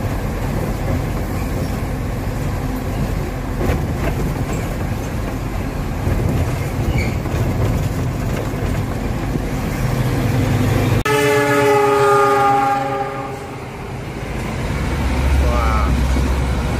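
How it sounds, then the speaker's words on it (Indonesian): A train rumbles past nearby at night with a steady rolling clatter, then its horn blares in a long blast as people talk. "sebelah itu kereta ya. Ya iyalah kereta, kereta api."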